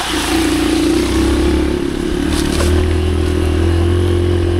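Motorcycle engine running steadily at close range, a loud continuous drone with a low throbbing hum and a slight rise in pitch partway through, with no talking.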